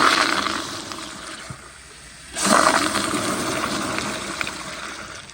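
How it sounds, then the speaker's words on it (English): A new-old-stock 2008 American Standard Madera toilet flushes with a strong rushing swirl that surges suddenly midway, then settles into a steady loud wash of draining and refilling water. "But here is another flush."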